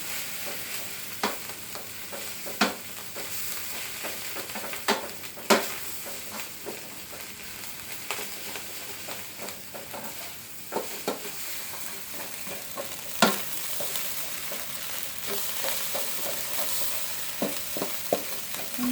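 Vegetarian fried rice being stir-fried in a pan, with a continuous soft sizzle and the spatula knocking and scraping the pan at irregular moments throughout, close with no voices.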